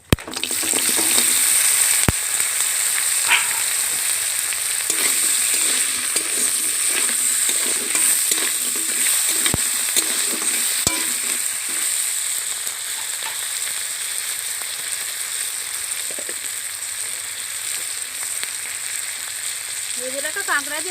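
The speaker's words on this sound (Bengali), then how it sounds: "ভেজে রাখা কাঁকড়া দিয়ে ভালো করে নেড়ে চেড়ে নিয়েছি" Pre-fried crab tossed into a pan with a black and white mustard seed tempering, a loud, dense, hissing sizzle that starts abruptly and holds steady throughout, with scattered scraping stirs, close up and without talking.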